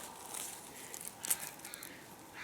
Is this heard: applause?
no